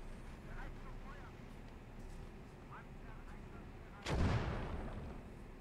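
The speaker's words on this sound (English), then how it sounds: "So he has a mortar or something pounding in the middle." Mortar shelling in the World War II game Gates of Hell Ostfront, one heavy explosive boom landing midway through a steady din of battle noise and scattered distant fire, with a commentator talking over it.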